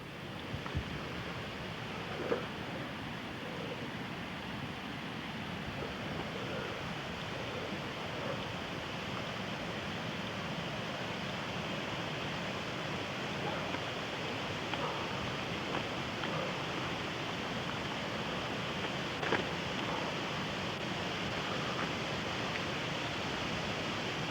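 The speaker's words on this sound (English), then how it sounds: "And this is the waterfall at Ridley" Waterfall on Ridley Creek pours in a steady, even broadband rush that fills the whole stretch at moderate distance, unbroken by voices.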